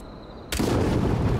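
A gunshot sets off an explosion in the video game Hitman, a sudden loud blast half a second in that rolls into a sustained heavy rumble.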